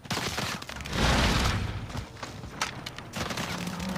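Dense bursts of video game gunfire in a multiplayer shooter, loud rolling volleys that swell and fade with scattered sharper shots, close and continuous over the whole stretch.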